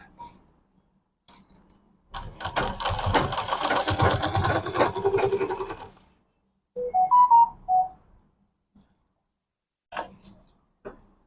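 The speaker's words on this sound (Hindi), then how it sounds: "और सिलाई लगा देंगे।" A sewing machine runs in one steady burst of about four seconds while stitching piping onto a medium-size bag, followed by a few short clicks and taps near the end.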